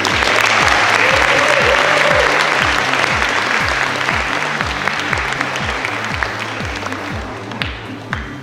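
An audience at a university arts gathering applauds loudly and steadily, a dense wash of clapping that fades slightly toward the end.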